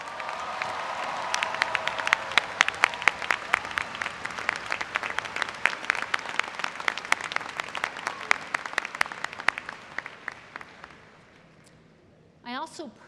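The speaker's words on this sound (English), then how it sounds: "with another round of applause." Applause from the audience at a spring commencement ceremony, a long round of clapping with crisp individual claps that gradually thins and fades out, followed by a speaker's voice resuming at the end.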